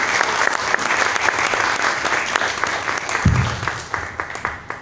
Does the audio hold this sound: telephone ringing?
no